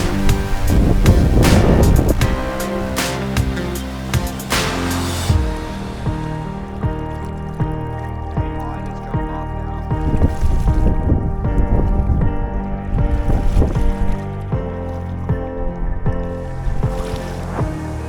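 Wind buffets the microphone while waves lap around a kayak on a lake, gusty rushing and splashing close by, louder at the start and then easing in uneven surges.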